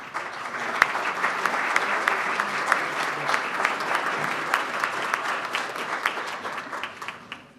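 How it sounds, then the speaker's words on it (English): A round of applause for guests at a Rotary club meeting, steady clapping from a roomful of people sustained for several seconds at moderate distance. "We'd like to recognize you in one group with a round of applause."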